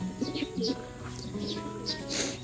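Soft, low pigeon coos repeat in a loose rhythm, close by, with a few faint higher chirps mixed in.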